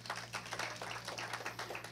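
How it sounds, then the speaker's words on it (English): A church congregation claps during a Sunday service. The clapping is faint and even, and a steady low hum runs underneath it. "Give them a hand clap."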